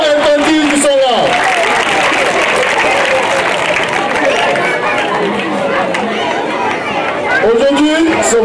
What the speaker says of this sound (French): applaudissez pour tous les gentils tontons et tantis qui sont là